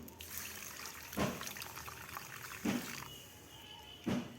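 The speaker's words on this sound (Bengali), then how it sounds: "গাই দুধ আমি আর একটু জল দিয়ে দেব।" Water poured into cow's milk in a kitchen, with three short trickling splashes spaced about a second and a half apart over a faint steady background.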